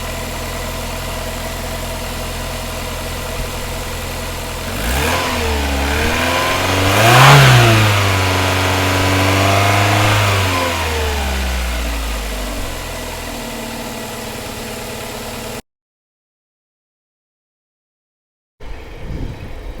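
A Vauxhall Cavalier X20XEV engine with new exhaust manifold gasket and rear silencer idles, then revs up in a smooth rising and falling sweep before settling back to a steady idle, loud and close.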